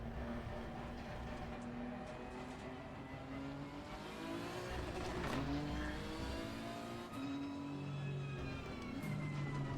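Race car in Assetto Corsa Competizione pulling out of the pit lane on cold tyres with low pressure, a steady close engine drone with rising and falling revs and whining harmonics throughout, no talk.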